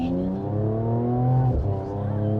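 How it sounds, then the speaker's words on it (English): A 2022 Mercedes-AMG GT53's 3-liter inline six-cylinder twin-turbo engine with mild hybrid system revs loudly and close by, a rich, steady growl that dips briefly before rising again. "That's a 3-liter inline 6-cylinder twin turbo with the mild hybrid system."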